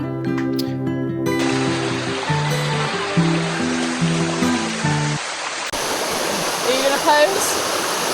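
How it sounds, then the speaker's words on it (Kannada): Water pours down the Sticky Waterfall in Thailand as a steady broadband rush, first under a loud music layer and then heard more openly, with a few short voice sounds over it. "ಇದೇ ನೋಡ್ರಿ ಸ್ಟಿಕ್ಕಿ ವಾಟರ್ ಫಾಲ್."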